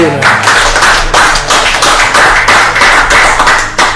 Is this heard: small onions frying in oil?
no